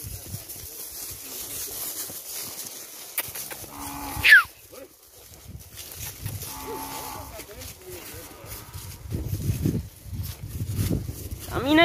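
Dairy cows being driven along by people on a farm, with cattle lowing intermittently amid outdoor noise, footsteps and rustling, and voices calling out now and then.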